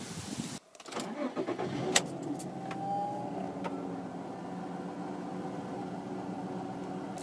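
A VW Golf 4 with a 2.3 V5 engine cranks and starts after an ignition coil change, then settles into a steady, even cold idle, with a few clicks and a rising whine after the start.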